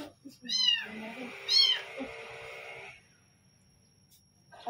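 Two sharp, close meows from a hungry kitten, the second stretching into a drawn-out cry before fading to near silence, with a faint squeak at the very end.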